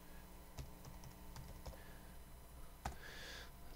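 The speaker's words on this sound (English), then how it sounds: "Usually I just mash my keys down and that's what it becomes." Computer keyboard typing while working on layer masks in Photoshop, a quick run of scattered close key clicks with a couple of louder hard strikes, soft and alone against a faint room hum.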